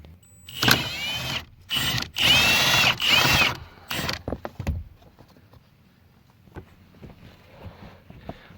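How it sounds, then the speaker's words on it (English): A power tool whirs in several loud bursts while removing a 12mm bolt on a 2000 Toyota Camry during strut replacement, then gives way to faint clicks and handling noises. "you're going to remove this 12mm bolt right here"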